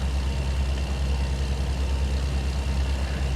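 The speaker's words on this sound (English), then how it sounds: "Should hear some AI traffic now." Low engine drone of AI traffic vehicles in American Truck Simulator, a steady idling rumble of trucks and cars heard alone without pauses, moderately loud and even throughout.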